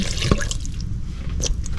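Water splashes briefly into a pot, a quick pour with a few drips, heard up close with no talking.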